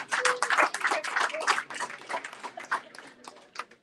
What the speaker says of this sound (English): You can clap. You're allowed to clap.